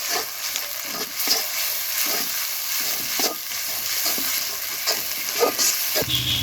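Ginger, garlic, cumin and garam masala paste being stirred into frying onions for village-style chicken curry, a steady sizzle broken by repeated close scraping strokes, ending with a louder hiss; no talk.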